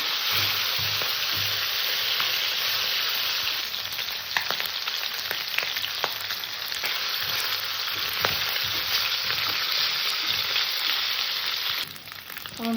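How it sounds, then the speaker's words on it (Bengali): Snakehead fish frying slowly in hot oil over a low gas flame, a steady close sizzle with scattered pops and crackles throughout, the spatter easing briefly near the end. "যেহেতু আমি গ্যাসটা ছোটো করে দিয়েছি একটু টাইম নিয়ে ধীরে মাছটাকে ভেজে নেবে"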